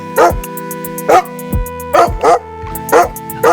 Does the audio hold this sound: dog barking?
yes